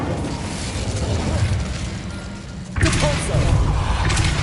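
A burst of the Incendio fire spell in Hogwarts Legacy, a sudden loud whooshing blast that starts partway through over steady game ambience and muffled background sound.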